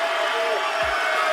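Steady roar of a WWE wrestling arena crowd cheering and yelling throughout, loud and unbroken, with one low thud partway through.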